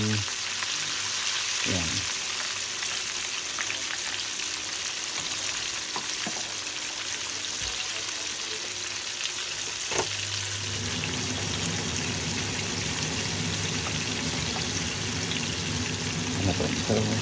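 Chicken pieces fry in hot oil with a dense, continuous sizzle and crackle, loud and close throughout, while a voice speaks briefly over it.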